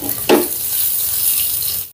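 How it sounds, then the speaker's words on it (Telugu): Boiled eggs frying in a pan with turmeric, chili powder and salt for an Afghani egg masala curry. A sharp burst of sizzle opens it, then a steady close crackle continues on its own. "ఇప్పుడు ఈ గుడ్లని ఒక 2 నిమిషాలు ఫ్రై చేసుకుందాం."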